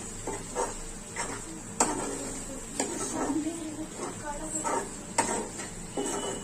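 Prawn masala sizzles in a pan while a spoon stirs it, making repeated metallic scrapes and taps over a steady frying hiss, close and moderate in level, with a voice briefly speaking.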